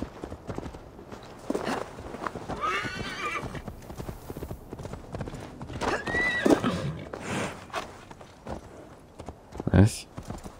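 A horse whinnies twice over steady clip-clop hooves in Assassin's Creed Valhalla, with game-like ambience and a sharp thud near the end.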